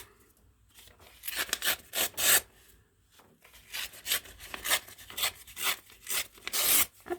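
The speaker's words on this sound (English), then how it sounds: "I'm going to grab a couple more pieces of paper" Papers rustle and rub in bursts, crisp scraping and shuffling sounds close up, coming in irregular strokes with short quiet gaps.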